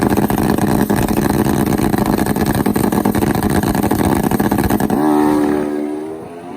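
A nitro Harley or turbo Hayabusa drag racing motorcycle launches hard at a drag strip, a loud, sustained engine roar that holds steady and then fades with falling pitch as the bike pulls away down the track.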